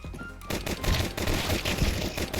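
Rapid Glock pistol fire in Counter-Strike, a dense burst of close, loud shots running almost continuously after a brief lead-in, with no talk over it.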